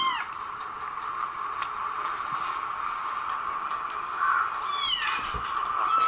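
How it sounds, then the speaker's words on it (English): A few faint cat meows over a steady background hum, with soft rustling; the mews are brief and somewhat distant. "Is that a kitty?"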